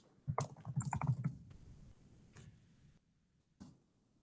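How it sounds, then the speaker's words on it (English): Typing on a computer keyboard into a search box: a quick burst of clustered key taps, then a few isolated clicks after a pause, close and fairly quiet with no talking. "typing in the box is really helpful, isn't it?"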